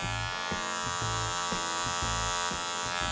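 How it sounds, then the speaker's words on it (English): A hair clipper with a loose blade and its plastic piece removed runs steadily and loudly on its own, a dense electric buzz with a faint regular pulse roughly every half second. "This right here is the clipper that has the blade that doesn't have the plastic."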